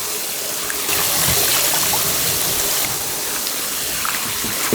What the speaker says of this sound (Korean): 물을 가득 받아갖고 흔들면서 씻으면 좋아요